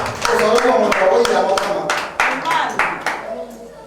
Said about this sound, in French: Acclamons notre frère